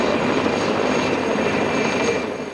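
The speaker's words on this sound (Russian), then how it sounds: "показательный пролет пилотажной группы аэроклуба самарского филиала ЦСКА на вертолетах Ми-2" Mi-2 helicopters from a CSKA Samara branch aeroclub aerobatic team fly over in a display, giving a loud, steady rotor and engine roar that eases slightly at the end.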